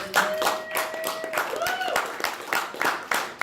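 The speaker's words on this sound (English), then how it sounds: "let us give you a round of applause" Audience clapping for a conference speaker at a new media conference, sharp irregular hand claps from a small group, fairly close, with a voice and tonal sounds mixed in.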